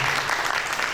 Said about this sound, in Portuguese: Receba mais uma salva de palmas.